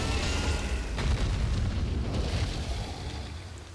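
Rock sorcery strikes a boss in the video game Elden Ring, giving a deep rumbling impact boom that rolls on and slowly fades, loud and close with no talking.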